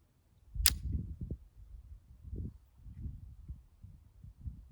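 SAR B6c pistol magazine seated into the grip: one sharp metallic click near the start, followed by faint low handling knocks and rustles, quiet and close.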